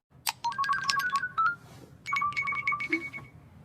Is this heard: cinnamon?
no